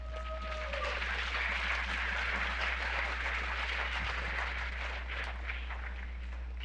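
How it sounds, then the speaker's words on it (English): Audience applause at the Ebertfest film festival before a Capote screening, a broad continuous patter of many hands under a steady low hum, holding at an even level throughout. "So now you can applaud"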